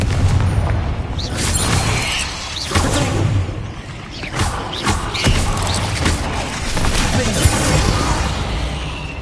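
Confringo spells blast off in Hogwarts Legacy, booming explosions and crashing impacts layered over game effects, with a voice calling out through the action.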